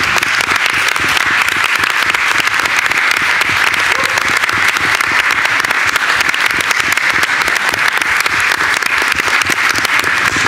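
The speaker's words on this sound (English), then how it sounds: "so we can give you a round of applause" Sustained, even applause from an audience at a school board meeting honoring teachers and leaders, a thick steady roar of many clapping hands lasting throughout at strong volume.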